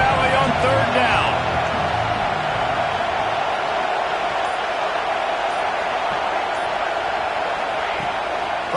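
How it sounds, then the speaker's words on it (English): A big college football crowd roars in Happy Valley on third down, a dense, loud and steady wall of noise that holds for the whole stretch without easing. "Here comes the noise from this big crowd in Happy Valley on 3rd down."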